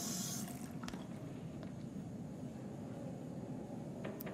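Hot water runs from a tap in a big mountain lodge, a steady hissing stream with a few faint drips and clinks on top, continuous and fairly quiet.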